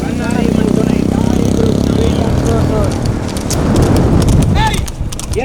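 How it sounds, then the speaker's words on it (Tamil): Racehorses gallop in a horse race in Coimbatore, their hooves drumming in a rapid, loud, close rhythm as an announcer talks excitedly over them throughout. "மூன்றாவது குதிரைக்கு கடுமையான போட்டி இரண்டாவது குதிரைக்கு"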